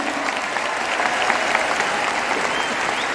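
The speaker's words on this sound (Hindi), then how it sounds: "खुद के लिए जोरदार ताली होना चाहिए," A crowd at a Vestige business training event claps loudly and steadily, a dense wash of applause filling the room throughout with little talk.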